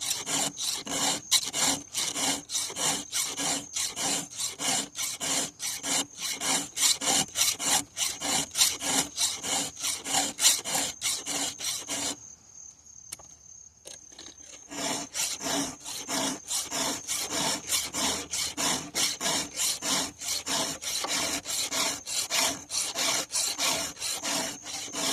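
Chainsaw teeth are sharpened with a hand file, giving a close, rasping scrape stroke after stroke in a steady rhythm, broken by a short pause before the filing resumes.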